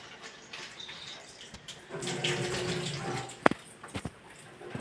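Tap water runs while green kanthari chillies and tamarind are washed, a gentle rising splash with a few sharp clinks and drips close by, no talking.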